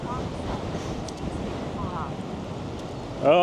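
Constant cold wind rumbling against the microphone in a dense low roar during an e-bike ride in Albuquerque, with brief bits of a voice near the end.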